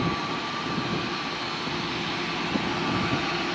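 An airliner landing at Lisbon Airport produces a steady, loud, broad jet-engine roar that fills the whole stretch without breaks and with no speech.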